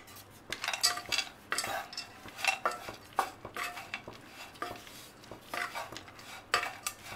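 A metal spoon clinks and scrapes against a dish in repeated short strokes while roasted peanuts are stirred into poha, the Maharashtra-style flattened rice dish, each clatter crisp and close with brief pauses between.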